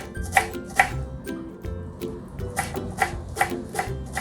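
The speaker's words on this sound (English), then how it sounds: "Now we will chop up the coriander leaves." A knife chops fresh coriander leaves on a cutting board in a home kitchen, making crisp, close knocks in an uneven rhythm of about a dozen strikes.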